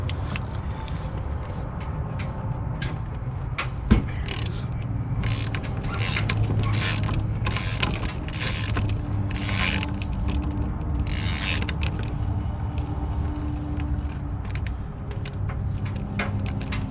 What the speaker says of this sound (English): we'll go ahead and loosen that bolt up